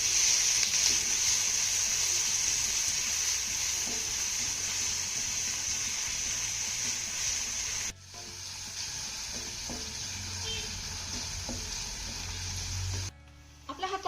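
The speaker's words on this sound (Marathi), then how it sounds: "आता हा कांदा आपल्याला हलक्या सोनेरी रंगावरती परतून घ्यायचा आहे" Finely chopped onion sautés in a pan, giving a continuous close sizzle broken by occasional stirring scrapes, with no talk over it.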